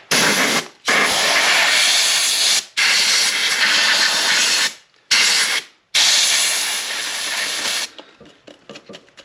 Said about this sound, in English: What I'm first gonna do is blow off all the grime that I'm seeing